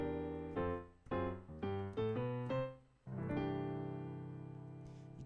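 A jazz piano plays a blues ending with a varied melody, a short run of distinct struck chords and notes that lands on a final chord left ringing and slowly fading, close and clear with no talk.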